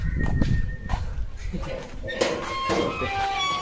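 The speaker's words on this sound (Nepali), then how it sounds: "यो हाम्रो कुकुर" A pet dog gives a few short barks and soft whimpers at close range, mixed with a person talking nearby.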